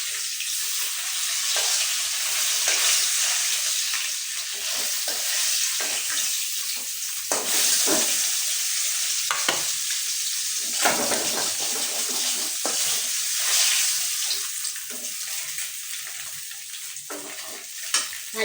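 Fish fry in hot oil in a pan, giving a loud, continuous close sizzle with occasional clinks and scraping as the pieces are turned and lifted out.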